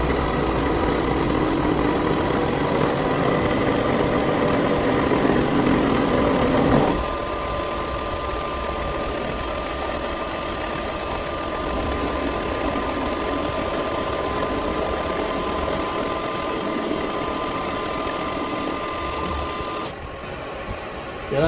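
A milling machine cuts metal in a steady, loud machining drone with tonal whine and motor hum; the pitch and texture shift partway through, and the cut ends with a brief change near the end.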